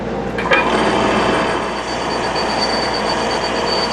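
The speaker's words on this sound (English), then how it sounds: "before I start polishing, I go real good with Scotch-Brite" A Scotch-Brite pad scrubs hard over a metal pen part for deburring, giving a loud, steady, continuous abrasive rasp that fills the whole stretch with no talk.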